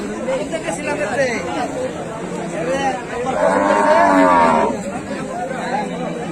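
Cows moo loudly at a large cattle market, one long low call rising over constant crowd chatter and people talking nearby.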